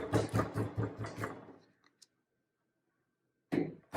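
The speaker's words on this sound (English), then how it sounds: "I'm going to start out by just kind of pounding out a little base for my coil pot" Hands pound a lump of clay flat into a base for a coil pot, giving a quick run of dull, close thuds, then a pause of near silence before a couple more slaps.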